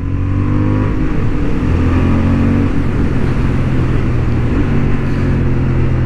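A Honda Hornet 750 motorcycle on a racing track, its engine droning loud and steady at high revs throughout, heard up close from the rider's position with no pause or shift break.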